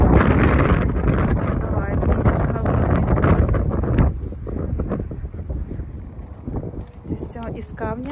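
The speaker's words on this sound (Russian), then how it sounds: "Продувает ветер холодный" Cold wind buffets the microphone outdoors in Croatia, loud rumbling gusts that ease after a few seconds, with a person talking underneath.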